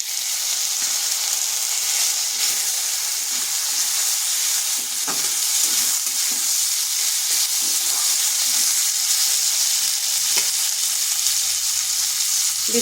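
Potatoes with a tomato frying in a pan for a vegetarian cauliflower dish, a constant loud hissing sizzle with occasional stirring clicks, no voices.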